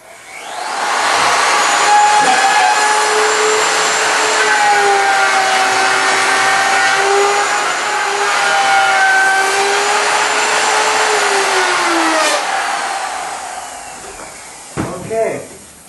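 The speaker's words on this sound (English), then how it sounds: "See, I've got it routed all the way around now. I got a groove all the way around." A router cuts a groove around the top of an antique barrister bookcase: a steady, loud high whine runs for about twelve seconds, then winds down into a few clunks.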